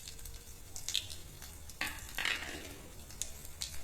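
Mustard seeds, cumin and urad dal fry in hot oil with a close crackling sizzle, marked by sharp spitting pops and a few louder bursts, broken by light stirring clatter, with no talk.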